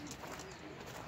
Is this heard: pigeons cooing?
yes